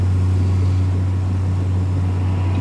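A Cessna 172 engine at takeoff power in Flight Simulator X: a loud, steady, low droning hum that holds constant throughout, with no voices.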